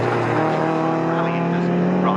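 Porsche 944 race cars circuit-racing at Snetterton roar in a sustained, loud engine drone with a steady pitched tone, heard under a commentator's continuous talk.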